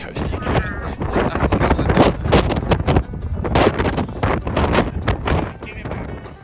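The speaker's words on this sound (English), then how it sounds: "It's pretty windy on the Atlantic coast." Strong wind on the Atlantic coast buffets the microphone in loud, continuous roaring gusts, close and rough, with a voice faintly under it.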